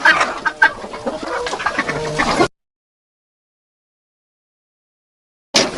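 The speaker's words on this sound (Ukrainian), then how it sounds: "Зараз я випущу цю птичку і трішки розповім вам про таку птичку, як цесарка." Loud, close guinea fowl calls chatter rapidly for a couple of seconds, then silence, with the calls briefly resuming at the very end.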